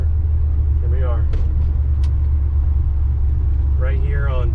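A Ford truck drives steadily with a loud, constant low engine rumble close by, then slows as it pulls up; people talk over it in two short stretches.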